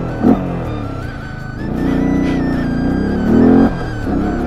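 Engine of a vehicle being ridden on the road from Balimela to Satiguda Park in Malkangiri, a steady close hum that rises and falls with throttle, with short revving surges.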